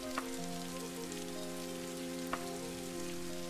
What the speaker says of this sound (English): Ooh, it's raining outside. Do you hear that sound?